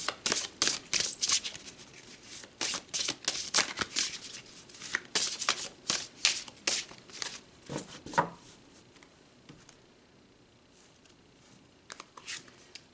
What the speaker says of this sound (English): we're going to pull some cards